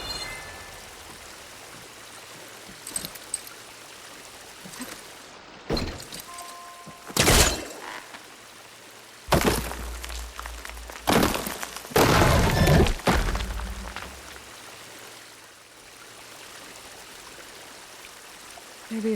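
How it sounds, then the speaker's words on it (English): Water leaking from a damaged pipe in Horizon Forbidden West, a steady low gushing and trickling flow with several louder splashing and clattering bursts scattered across the stretch. "The water is still leaking"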